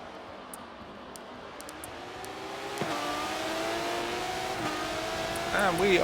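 Aston Martin DBR9 race cars in a racing game roar off the start at the Nürburgring GP circuit, engines climbing through revs with gear shifts and rising intensity, while someone talks over them.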